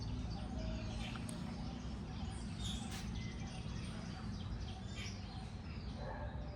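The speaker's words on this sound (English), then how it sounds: "The birds make so much noise." Birds call outside a house on a Delhi morning, scattered chirps and tweets over a dense, steady background of outdoor noise, fairly faint and at a distance.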